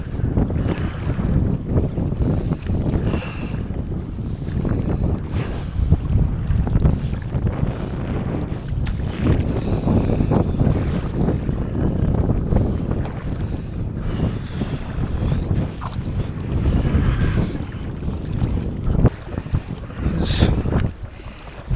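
Wind buffets a kayak out on Gwynant Lake in North Wales, a constant heavy roar across the microphone with gusty surges and faint water sloshing beneath.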